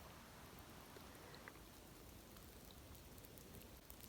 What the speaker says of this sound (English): That is the sound of rain